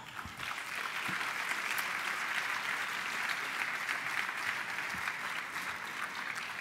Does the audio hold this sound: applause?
yes